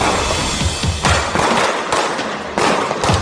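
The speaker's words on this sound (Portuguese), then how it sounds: "Deram mais de 100 tiros aqui." Heavy gunfire from a violent attack with over a hundred shots fired, loud sharp cracks packed into rapid bursts, with several dense volleys in a few seconds and no talking.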